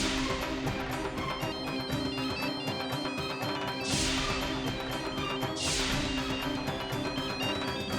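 A phone rings repeatedly in a steady electronic pattern, continuing unanswered, with a couple of brief sharp bursts partway through.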